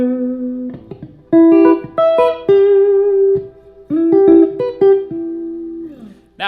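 A guitar lick built on one minor triad rings out as a series of loud, sustained single notes and short quick phrases, separated by brief pauses and played alone with no talking.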